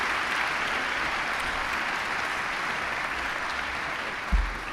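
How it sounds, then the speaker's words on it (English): Steady applause from a large crowd at a university presidential inauguration fills the space, dense and even, with a soft thump near the end. "Can we have a round of applause for all of our elected officials who are here with us?"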